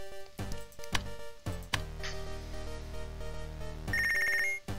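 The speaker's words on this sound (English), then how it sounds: "Got a phone call." Phone ringing in the Punch Club 2 video game: a bright electronic ringtone with repeated tonal bursts over game music, ending in a sustained high trill, with no talking.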